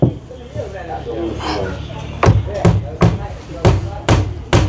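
Sharp hammer strikes while laying floor tiles in a house, about six loud close blows in an uneven rhythm, heard after and partly under workers talking.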